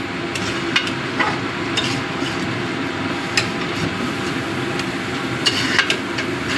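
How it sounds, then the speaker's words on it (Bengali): Vegetarian potato curry, niramish aloor dum, is stirred in a pan over a steady low sizzle, with occasional sharp scrapes and taps of a spoon against the metal, close and without talk. "ভালো করে মিশিয়ে দিচ্ছি"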